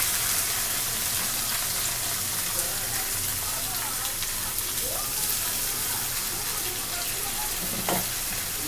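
Marinated meat hits a hot pan with browned fried onions and sizzles in a steady, dense frying hiss throughout, with faint stirring clinks and no talk.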